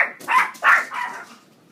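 Pet dogs bark in a quick burst of three or four sharp, close yips and barks indoors, loud and on their own.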